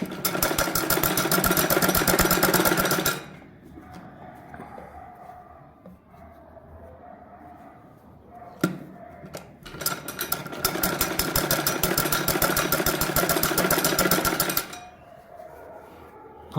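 Sewing machine stitching around a shirt neckline, fast rapid needle chatter in two long bursts separated by a quiet pause with a single sharp click.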